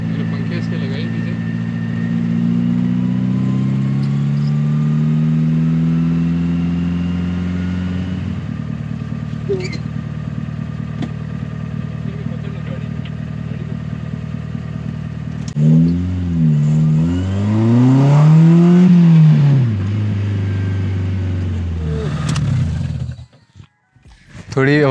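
A Datsun 120Y fitted with a new exhaust idles loudly and close up, then is revved in several rising and falling bursts before the engine drops away near the end.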